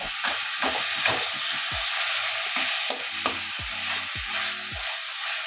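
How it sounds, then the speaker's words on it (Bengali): Rohu fish head frying in spiced masala, steady loud sizzle with repeated scraping knocks of a spatula breaking up the head in the pan, no talk. "খুন্তি দিয়ে এভাবে একটু ভেঙে দিচ্ছি মাথাটা"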